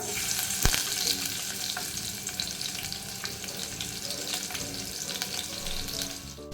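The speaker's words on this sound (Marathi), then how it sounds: "तेल आता गरम झालेलं आहे आता मी यामध्ये चार लसणाच्या पाकळ्या ठेचून घालत आहे" Four crushed garlic cloves drop into hot oil in a pan with a soft clunk, then sizzle and crackle steadily and quietly, close by, with no talk.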